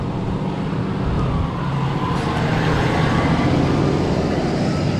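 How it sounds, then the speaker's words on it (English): A steady roar of road traffic as a vehicle, a truck, closes in from behind on a road ride, a broad engine and tire rumble that holds loud throughout, with no voices. "Hear a vehicle coming up behind me."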